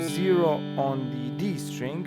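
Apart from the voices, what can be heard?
None of the usual background noises is heard.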